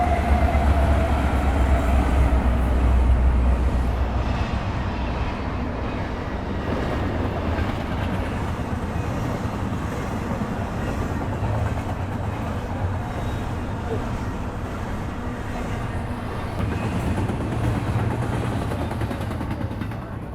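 A train rumbles steadily past in Huntington for a long stretch, with a continuous low roar and rolling clatter of wheels, fairly close and loud.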